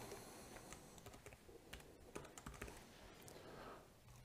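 Quiet, steady typing on a computer keyboard as a name is entered for a saved parameter set in configuration software, rapid irregular key clicks continuing for several seconds at close range.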